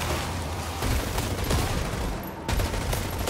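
Sustained automatic gunfire in the multiplayer shooter EvilvEvil: a dense, loud fusillade of rapid shots rattling continuously up close, with a brief lull before the bursts resume.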